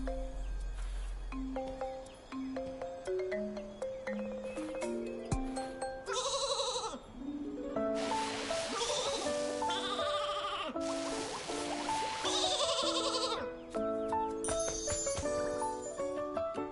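Flora sheep from the video game Infinity Nikki bleat repeatedly in short, wavering calls that overlap and trade off with one another, set against light game music and ambient chirps.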